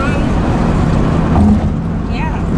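A manual Ford Mustang sits at a stop sign with a learner driver, its engine and road rumble a steady, loud drone, with people talking over it.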